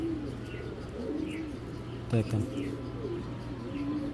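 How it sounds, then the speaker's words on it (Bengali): Racing pigeons of a single bloodline coo in soft, low repeated calls from nearby, with a brief spoken word partway through. "এই যে সব এক ব্লাডের কবুতর, এই দেখেন।"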